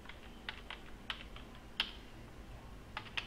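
A computer keyboard is typed on while entering a graph title in MATLAB: a handful of light, sparse keystroke clicks, close but quiet, spaced irregularly with no talking.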